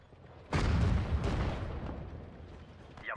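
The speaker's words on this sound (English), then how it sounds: "I need to get artillery fire on that trench." Artillery shells from Sudden Strike 4 slam into a trench in one loud, deep blast, its rumbling roar fading slowly over a few seconds.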